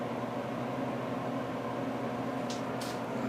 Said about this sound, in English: that noise you hear is the heater back there